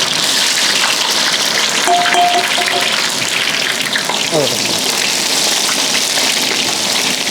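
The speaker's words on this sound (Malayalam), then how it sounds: "ആ വെളുത്തുള്ളി അങ്ങോട്ട് ഇട്ട് കൊടുക്കുക" Garlic sizzles in hot oil after mustard seeds while beef pickle is being prepared, a loud, steady crackling hiss that fills the whole stretch, close to the pan.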